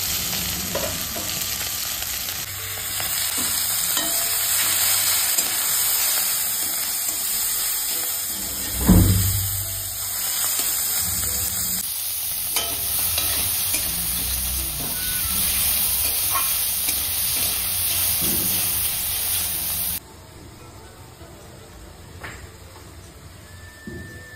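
Fish frying and being stirred in a small amount of oil, with a steady close sizzle and scraping stirs that run throughout, a louder clatter near the middle, then a quieter, thinner sizzle toward the end.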